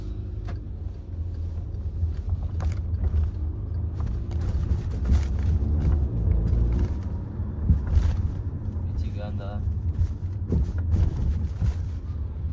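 A Volkswagen Tiguan 2.0 with a 200 PS tune idles and rumbles inside the cabin as its start-stop system restarts the engine, a steady low drone with mechanical clicks, heard close without any talk over it.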